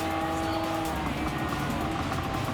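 Engines of a convoy of Suzuki K-trucks in a racing video game drone loudly and steadily, a dense mechanical roar with faint tire noise that never lets up across the short stretch.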